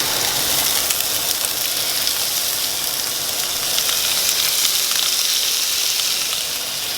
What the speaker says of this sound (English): All right, guys, I'm gonna cook my shrimp off.